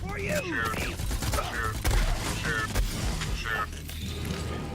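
Dense, continuous gunfire fills a Borderlands 3 firefight, with overlapping shots and mechanical clatter, and game voices blend into the chaotic mix.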